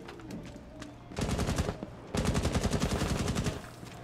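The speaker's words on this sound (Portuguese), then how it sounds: "Mano, da onde veio esse tiro, velho?" Automatic gunfire in the video game Rainbow Six Siege: two loud, sustained bursts of rapid shots, the second longer, with no talking over them.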